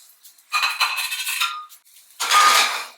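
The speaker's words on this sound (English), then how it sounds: "Let's get that off our pan." A frying pan holding a cooking egg is shifted off a stove flame, giving two bursts of metallic scraping and clinking against the burner grate, close and fairly loud with a short pause between.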